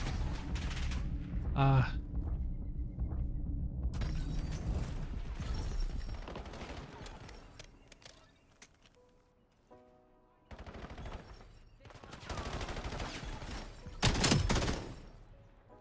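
Video game gunfire fills the scene in rapid automatic bursts and scattered shots, loud at first, then fading, then returning strongly, with a man's brief exclamation.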